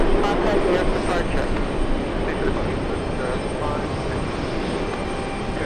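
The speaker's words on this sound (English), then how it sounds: "Seeing an A380 take off." An Airbus A380 taking off at JFK makes a dense, rumbling roar that is loudest at first and then eases off slightly. Faint voices are mixed in beneath it.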